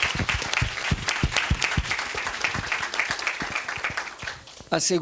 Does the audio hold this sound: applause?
yes